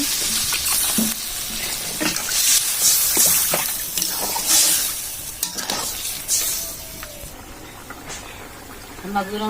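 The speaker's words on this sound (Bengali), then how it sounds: "আর এখন দিয়ে দিচ্ছি জল, যেহেতু মশলা ভালো ভাজা হয়ে গিয়েছে।" Water is poured into a wok of fried spices with green chili, setting off a broad hiss and sizzle, with scraping and stirring clatters throughout.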